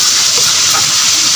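Garlic sautéing in a pan for chicken menudo, a loud, dense, continuous sizzle of frying in oil, close and alone.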